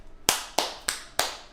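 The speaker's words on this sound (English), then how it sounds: "I'll slow clap you out of the freaking country" A slow, deliberate clap rings out five times at an even pace of about one every three-tenths of a second, each sharp crack trailing into a short echo, with no talking.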